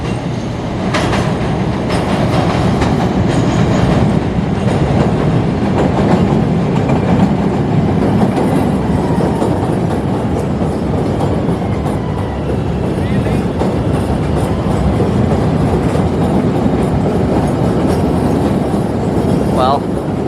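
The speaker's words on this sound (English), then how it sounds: "next brown train's pulling in" A Chicago Brown Line train rumbles loudly into a station, steady roar with clickety-clack wheel noise and faint squeals, up close, with a voice speaking over it.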